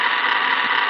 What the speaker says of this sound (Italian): ora praticamente accenderemo i post-bruciatori